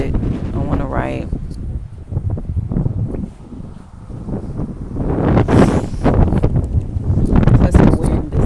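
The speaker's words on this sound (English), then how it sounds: "the wind is a little windy" Wind blowing outdoors in a park, a loud rumbling gusty buffeting against the microphone that swells and eases, with a voice briefly audible early on.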